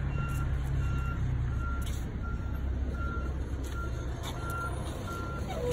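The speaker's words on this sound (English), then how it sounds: "bringing in our truck to set it up to pull the cable from here" A truck backs up at a 34.5 kV transformer site, its reversing alarm beeping at a steady rhythm over a continuous engine rumble and outdoor noise.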